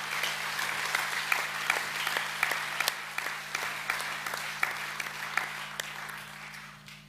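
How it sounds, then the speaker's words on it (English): Sustained audience applause fills a school academic assembly hall honouring Year 12 achievement recipients, steady dense clapping with scattered sharper individual claps, continuous for the full stretch and tapering slightly at the end, with a steady low hum beneath. "Can you give a round of applause for the Year 12 Academic Achievement recipients?"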